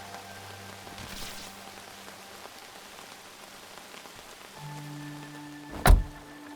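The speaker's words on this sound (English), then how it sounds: "you can hear the rain bounce off the metal of the roof" Steady rain patters on a metal roof in the video game Outbound, a soft continuous hiss with a brief louder thump near the end.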